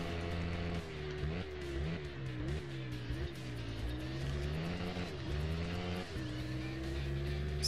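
Several motorcycle engines race in the PS4 game Ride, with a loud, sustained engine whine rising and dipping as the bike shifts gears. The rider's revs hold close and continuous throughout.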